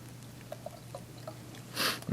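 Water is poured into a container to make an eyewash, starting with a few faint drips and trickles and ending in a brief, louder gush near the end.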